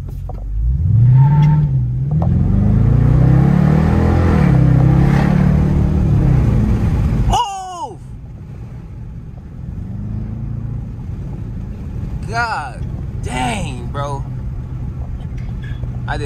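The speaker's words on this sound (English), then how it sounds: "I'm gonna do a pull from the red light" A Dodge Charger R/T pulls hard from a red light, its loud engine roaring and climbing through revs up close before cutting off abruptly, followed by a lower rumble with sharp high squeals.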